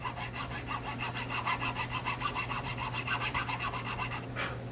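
A fine .032-inch saw rasps back and forth, widening scored string slots in a small bass string nut, with quick, even strokes close up and no talk over them.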